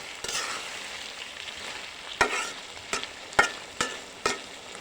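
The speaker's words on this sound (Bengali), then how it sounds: "একটু পর পর বুটটা লাড়া দিয়ে দিতে হবে, ভালো করে নেড়ে চেড়ে মিশিয়ে নেব।" Chickpeas frying in hot oil with a constant sizzling hiss, broken by several sharp spoon scrapes and clacks against the pan as they are stirred at intervals, close and clear with no talking.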